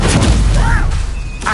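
Confringo blasting spell in a wizarding video game, a booming explosive burst with crackling debris, loud and close, followed by a short magical whoosh and a fading ring.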